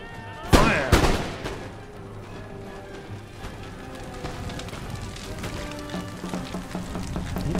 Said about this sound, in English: Make ready. Present. Fire!